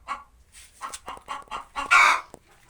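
A crested hen clucks in a run of short, close calls that build toward a louder, squawking burst near the end.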